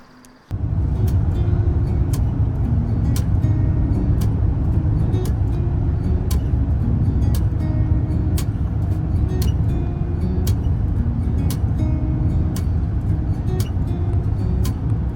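Car driving on a road near Cooperstown, NY, heard from inside as a loud, steady low engine and road rumble with faint ticking clicks, running continuously after a brief quiet start.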